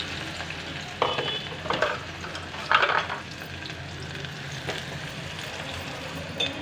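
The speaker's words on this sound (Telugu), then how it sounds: "ఆనియన్స్ ముక్కలు కూడా వేసేస్తున్నాను" Chopped onion pieces fry in a pan for a Telugu-style okra and raw prawn curry, giving a steady low sizzle with a few louder scrapes and stirring clatters near the mic.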